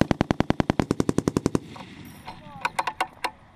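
M240B machine gun fired by a soldier in training, a fast burst of about fifteen sharp, evenly spaced shots, then brief quiet and a few more scattered rounds, close and loud with a faint voice in the background.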